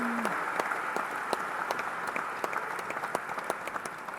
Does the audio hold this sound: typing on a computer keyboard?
no